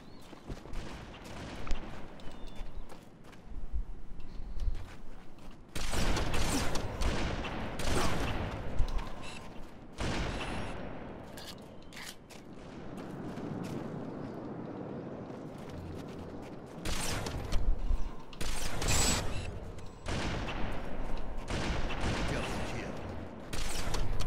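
Gunfire in the video game Halo 2: bursts of weapon fire and heavy blasts that come and go in loud clusters, separated by quieter stretches with some game noise.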